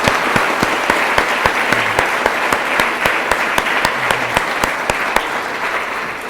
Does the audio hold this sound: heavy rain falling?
no